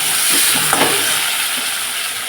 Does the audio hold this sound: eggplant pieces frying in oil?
yes